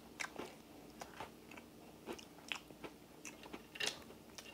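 Crackers being chewed close up, with a run of crisp, irregular bites and crunches, quiet and with no talking.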